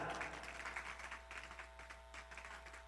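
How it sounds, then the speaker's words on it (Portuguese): Applause at a fashion and sustainability event, a faint, distant crowd patter with rippling bursts that continues evenly throughout. "Palmas para Flávia Aranha."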